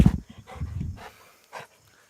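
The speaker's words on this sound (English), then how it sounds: "the puppy dogs are playing with each other" Puppies play together indoors, with short bursts of panting, snuffling and scuffling up close, broken by brief pauses and quieter gaps.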